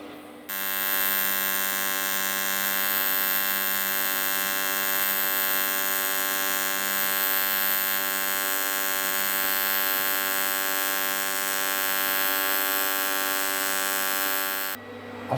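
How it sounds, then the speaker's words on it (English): Aluminium welding on a fusible plug gives a loud, steady electrical hum that starts abruptly, holds evenly for about fourteen seconds and then stops sharply. "time to weld it up"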